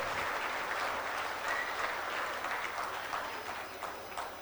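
Audience applause at a student event, dense sustained clapping from a crowd that fades slightly toward the end, heard alone.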